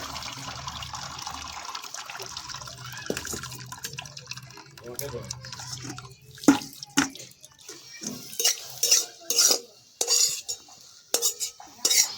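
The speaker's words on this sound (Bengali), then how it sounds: "এই দেখুন কলা মোচা সিদ্ধ হয়ে গেছে। এবারে ছেঁকে নেব।" Boiled banana blossom is drained through a strainer in a home kitchen, with a steady watery wash giving way to a run of sharp metal clinks and knocks of utensils against the pot, with talk over it.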